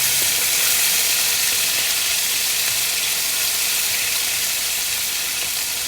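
Spicy tuna fried rice sizzling in a very hot pan, a loud continuous frying hiss with faint stirring scrapes underneath, no talking.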